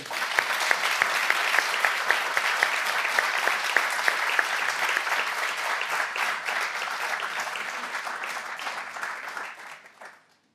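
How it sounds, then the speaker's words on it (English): A studio audience gives a steady round of applause at a live talk event, dense clapping holding for about nine seconds before tapering off and stopping. "I think we ought to give Tammy a round of applause"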